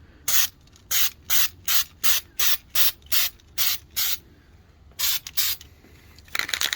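A Corvette valve cover gets a thin coat of spray paint: close, short aerosol hisses in an even rhythm, about eight quick bursts, a pause, then two more.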